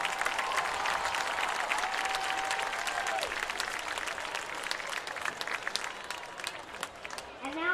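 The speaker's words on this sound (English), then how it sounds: "Let's give them a round of applause." A crowd at a high school homecoming football game applauds the homecoming court, giving steady clapping with a few brief tones and faint voices under it.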